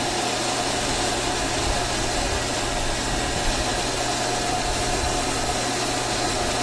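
Locomotive 1264, a B1 in North Yorkshire Moors Railway livery, stands at Whitby and gives off a constant, even hum with a hissing wash over it. The sound is moderately loud and unchanging, with no voices.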